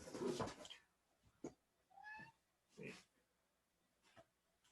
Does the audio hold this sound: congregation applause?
no